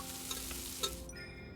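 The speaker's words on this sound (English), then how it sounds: "The heat is on high and the oil is sizzling in the pan." Close, steady sizzling of hot oil in a pan on high heat in the game Love and Deepspace, a bright crackling hiss with a couple of small pops, then it thins out abruptly.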